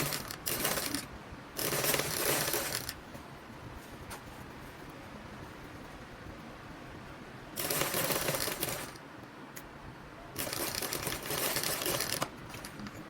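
Sewing machine stitching a front zipper fly, with three separate runs of steady mechanical whirring over a constant low background hum, fairly faint.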